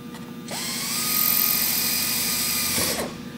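A power drill drilling sheet metal whines up to a steady high-pitched spin, runs loudly for a couple of seconds, then winds down, with no voices.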